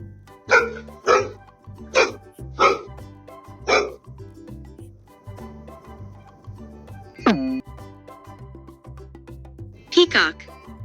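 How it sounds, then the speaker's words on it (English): A dog barks in a quick rhythmic series of five sharp barks, pauses, then gives a drawn-out yelp and one last bark, close and clear over a quiet background. "Dog."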